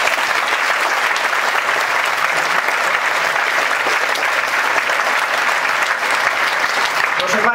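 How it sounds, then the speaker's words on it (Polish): Loud, sustained applause from a large audience at a national business conference, dense clapping filling the hall with faint crowd voices mixed in. "Brawa dla nich!"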